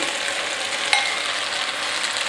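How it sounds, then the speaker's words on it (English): Half a kilogram of beef mince fries in a pot with a steady, close hiss of sizzling, broken once by a single sharp knock of a wooden spoon early on. "just using the wooden spoon, we're going to stir this around and break up the mince until it starts to brown"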